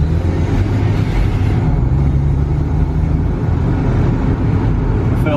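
A lowered Honda Civic EJ or EK on Maxpeedingrods coilovers rolls along, giving a loud, steady engine and road rumble inside the cabin, with no change in pace.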